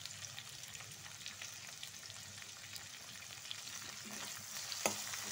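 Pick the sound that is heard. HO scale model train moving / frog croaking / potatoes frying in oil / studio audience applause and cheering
potatoes frying in oil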